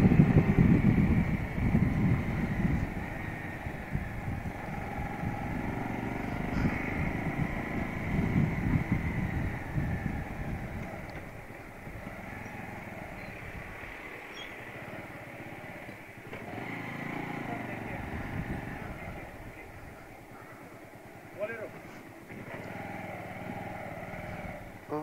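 Motorcycles ride along a mountain road in North Sikkim, their engines droning in a continuous rumble that fades and returns with wind buffeting the microphone, loudest at first, then softer and more distant.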